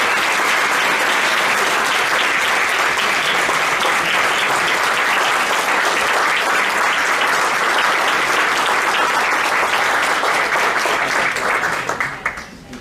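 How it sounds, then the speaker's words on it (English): Sustained, dense applause from the audience at a Lancaster city council meeting, loud and even throughout before trailing off at the end. "But can we give China a clap as well?"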